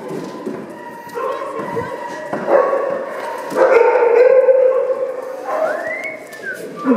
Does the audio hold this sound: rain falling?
no